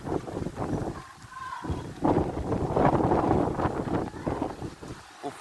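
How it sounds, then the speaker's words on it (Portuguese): Strong hurricane-force wind gusting across open ground in Planura, roaring and buffeting the microphone in continuous surges with a brief lull near the start. "o vento que tá passando aqui"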